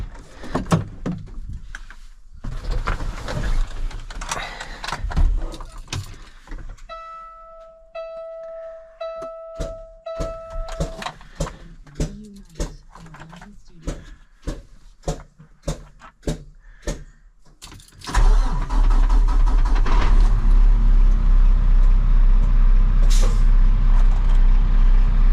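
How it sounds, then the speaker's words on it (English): A grapple-saw truck with air brakes goes through startup: clicks, a tonal beep and a rapid series of sharp ticks and air releases, then the diesel engine cranks and settles into a loud, steady close-up rumble. "So let's fire the truck up."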